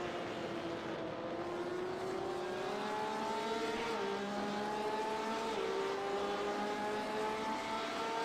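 Porsche and BMW race cars howl along a speedway circuit, engines droning steadily with pitch slowly sliding as they run past and downshift, a continuous loud racing roar throughout.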